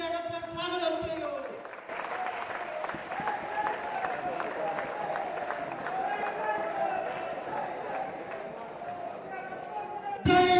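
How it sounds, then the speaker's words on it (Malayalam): An audience at a party event claps to welcome party chairman K M Mani onto the stage: a sustained wash of crowd applause lasting several seconds, with voices talking over it. "നിങ്ങൾ കൈയടിച്ച് അദ്ദേഹത്തെ സ്വാഗതം ചെയ്യൂ."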